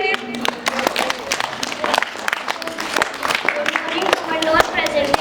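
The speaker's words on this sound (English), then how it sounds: "Clap for him." Audience at a school English poem recitation competition clapping for a class 6 student, a dense patter of many hands sustained throughout, fairly close and steady with faint crowd murmur.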